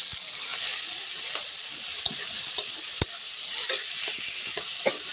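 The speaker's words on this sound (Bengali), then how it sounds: "তো এখন তেলটা তেতে গেছে, এখন আমি দিয়ে দেবো লঙ্কা আর পেঁয়াজ।" Chillies, onions and green and yellow capsicum stir-fry in hot oil for egg chowmein, a steady close sizzle with scattered sharp clicks and scrapes of stirring, no voices.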